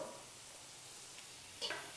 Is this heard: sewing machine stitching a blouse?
no